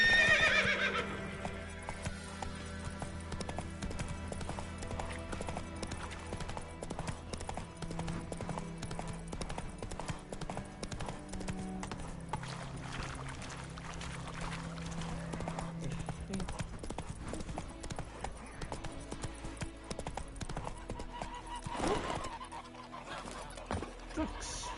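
Horse hooves clip-clopping in the Witcher 3 video game, steady rhythmic hoofbeats running throughout under game music, with occasional horse whinnies and a brief spoken voice near the start.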